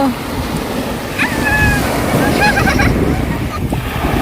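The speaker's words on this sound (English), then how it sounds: "Wow, look at the wave." Ocean waves surge and break at a beach in a steady, loud wash of surf, with wind buffeting the microphone and children's voices and shouts rising over the water.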